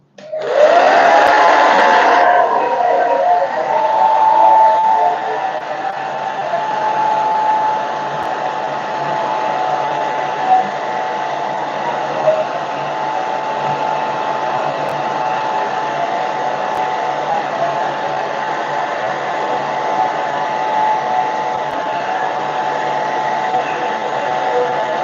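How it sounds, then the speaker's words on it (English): A handheld hair dryer blasts air close to the microphone, opening with a louder surge and then settling into a steady, loud whooshing roar with a whining motor tone that runs without a break for the whole stretch. "I'm quickly going to give this a blast of air with my hair dryer"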